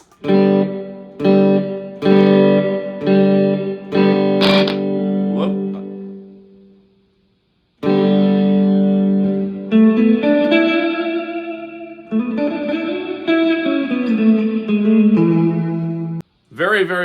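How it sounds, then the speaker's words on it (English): An electric guitar in drop D tuning played through a Peavey Stereo Chorus 212 amp with reverb on: loud strummed chords and picked notes ring out with lush, washy tails, with a brief silent pause midway. "Very, very nice sounding reverb"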